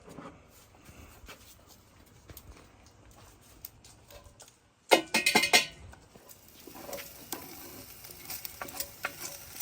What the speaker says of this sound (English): we're just browning this bacon down, getting a little bit of the fat out of it